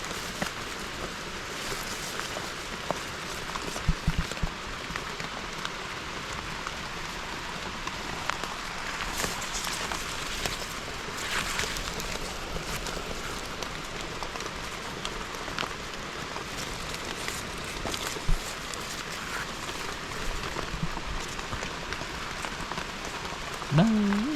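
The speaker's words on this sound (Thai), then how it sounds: "ฝนกระตุกอยู่" Rain falls steadily outdoors during mushroom picking, a continuous hiss of drops on surfaces lasting throughout, with faint scattered knocks and rustles.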